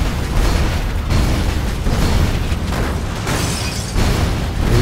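Rapid, dense bursts of turret cannon fire and explosions from Dead Rising 3 pound continuously at high loudness, with rhythmic surges roughly every second and no speech.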